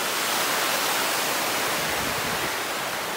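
Waterfall in the Peak District, a loud, unbroken rushing roar of falling water heard close up, steady from start to finish without voices.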